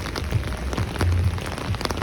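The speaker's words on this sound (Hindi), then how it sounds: "अब तो बहुत ज़्यादा तेज़ बारिश हो रही है।" Heavy rain pours down in Leicester, a dense steady hiss of drops drumming on surfaces close by, with a few louder low thuds scattered through the downpour.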